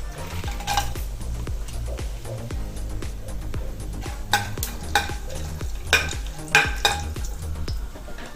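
Steady sizzling and crackling of cinnamon, star anise and cloves frying in hot oil, with occasional louder clinks and stirring scrapes of a utensil against a pan.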